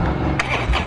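A 2013 Harley-Davidson Heritage Softail FLSTC motorcycle engine catches and starts in a short, close burst that settles into a low rumble.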